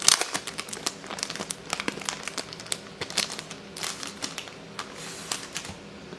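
Packaging and collectible cards from a Man of Steel Blu-ray steelbook are handled and unwrapped, giving close crinkling, rustling and sharp little clicks and snaps in an irregular stream.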